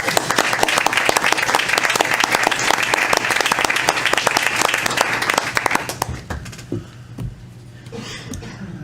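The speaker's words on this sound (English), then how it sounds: "And one more round of applause for you" A crowd at a Board of Education meeting in Enfield, Connecticut claps loudly and continuously for about six seconds, then the applause dies away into quiet room noise with a few scattered sounds.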